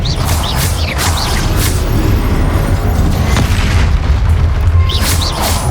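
Confringo spell explosions in the Hogwarts Legacy video game: a loud, continuous rumbling barrage of booming blasts with crackling bursts layered over a deep low roar.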